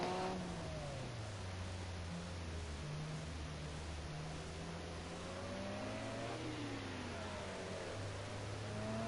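Racing car engine held at high revs at Monaco in a racing video game, a steady loud drone with pitch rising and falling through gear changes, continuous from start to end.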